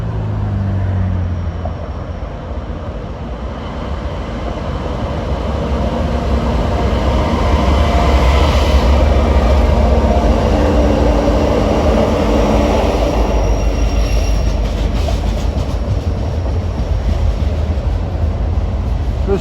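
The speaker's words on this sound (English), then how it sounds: "Approaching Alto Tower at 10:55 is train 36A, a manifest en route from Conway Yard to Enola near Harrisburg" Norfolk Southern manifest freight train 36A, running from Conway Yard to Enola on the Pittsburgh Line in autumn, approaches with a loud rumble that swells and stays heavy and continuous as it draws close.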